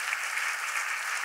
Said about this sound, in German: wird sofort geklatscht.